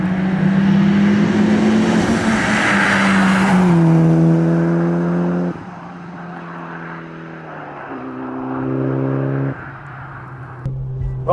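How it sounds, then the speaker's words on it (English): A Mitsubishi Lancer Evo IX wagon with a manual gearbox roars loudly at high revs, then shifts down and revs through gears as it drives past nearby, with no talking. "so of course it is our Mitsubishi Lancer Evo IX Wagon"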